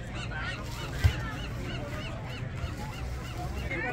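Geese or similar birds honk repeatedly at a beach in Capitola Village, California, faint calls in a series over steady surf and ambient noise.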